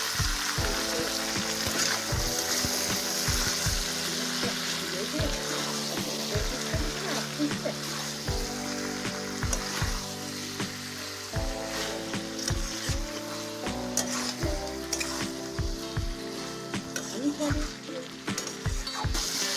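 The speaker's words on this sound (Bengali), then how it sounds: "যতক্ষণ না মাংসের মধ্যে থাকা জলটা শুকিয়ে যায় তত সময় মাংসটা কষতে থাকবো" Chicken pieces and potatoes sizzling loudly in hot oil in a pan for a desi chicken curry, a continuous frying hiss with rhythmic scraping stirs and background music playing throughout.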